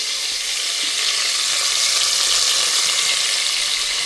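Tomatoes sautéing in a pan while a country chicken curry is being cooked, a steady, loud broadband sizzle with faint stirring scrapes, continuous and close with no talking.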